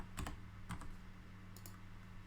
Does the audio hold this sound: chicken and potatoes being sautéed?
no